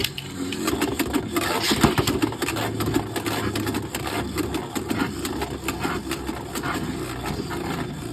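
Beyblade X tops spinning and clashing inside an Avatar Attack stadium, a steady loud whirring grind with rapid scraping rattles and sharp hits close by, continuous throughout with no talk.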